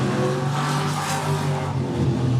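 Modified-class oval-track race cars rev loudly while warming up their tires, a dense, continuous engine roar with fluctuating pitch from several cars running together.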